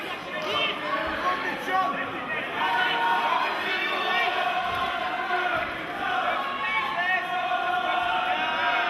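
Loud, vocal crowd at a TC31 fight event cheering and shouting continuously for an away mixed martial arts fighter, a dense roar of many voices filling the arena from start to finish.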